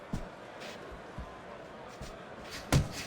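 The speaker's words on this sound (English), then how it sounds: "That's an impactful right hand by David Haye." Dull thuds of boxing punches land in Fight Night Champion, including a right hand from David Haye, several soft scattered impacts and one heavier hit near the end, over low arena crowd ambience and commentary.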